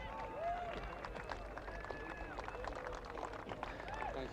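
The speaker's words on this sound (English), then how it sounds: "Put your hands together for Ty Simmons." Crowd at the Finke Desert Race applauding and cheering a second-place finisher, a steady wash of distant clapping and murmuring hubbub with some whistling, continuous throughout.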